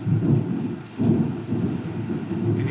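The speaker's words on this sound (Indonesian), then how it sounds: "ini hujan ini Pak" Rain with rolling thunder: a steady low rumble and wash of rainfall, surging in loud waves, heard alone without voices.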